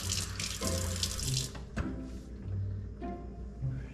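Tap water pours into a small test tube, the pitch shifting as it fills, with a brief clatter midway and short breaks in the flow.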